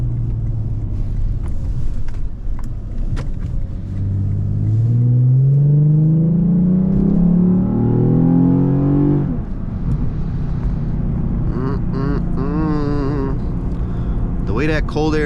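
A Lexus IS350 with cold air intake, exhaust and tune revs up with a rising, throaty growl, then drops off sharply as the throttle lifts, leaving a lower burbling exhaust.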